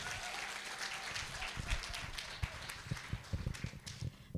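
An International Women's Day audience gives a round of applause, a quiet but steady patter of clapping that turns sparser and more distinct toward the end.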